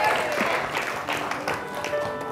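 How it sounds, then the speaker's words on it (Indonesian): A studio audience on the Take Me Out Indonesia 2023 dating show claps for contestants Fani and Angga, a loud, dense burst of applause and crowd noise that carries across the whole moment without pause. "Boleh kita berikan tepuk tangan sekali lagi untuk Fani dan juga Angga."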